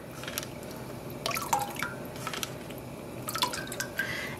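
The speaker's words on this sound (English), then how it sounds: "Let's go ahead and add 5 tablespoons of white vinegar." White vinegar poured into a dye pot holding about 16 cups of water gives scattered small drips and splashes, a quiet trickle swelling in brief bursts near 1.5 and 3.5 seconds.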